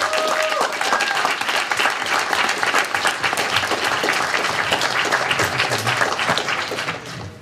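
Sustained applause from a debate audience during student union executive candidate elections, dense steady clapping filling the room throughout, with a few voices and cheers mixed into the crowd noise.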